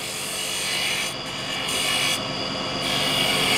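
A spindle gouge cutting a tight cove in wood spinning on a lathe, a continuous close, loud shaving hiss with brief dips as the tool lifts and re-engages.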